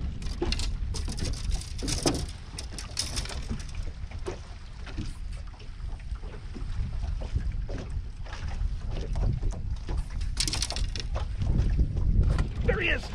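Gusty wind buffets the microphone on Lake Lanier while bass fishing from a boat, a rough low rumble with scattered pattering and knocks throughout, steady and close with no clear talking.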